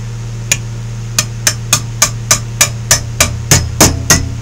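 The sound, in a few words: ball peen hammer shaping metal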